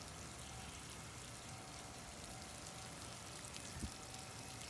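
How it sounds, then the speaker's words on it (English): Simulated rain poured over a soil side and a grass side, a steady wash of falling water with a soft, even hiss throughout and one brief splash near the end, no voices. "Okay, now we've got our simulated rain."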